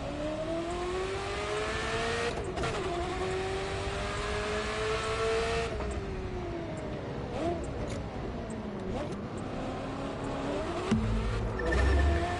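Car engine in the racing video game The Crew 2, droning and revving steadily with pitch rising and falling through gear changes, loud and continuous with some brief skids.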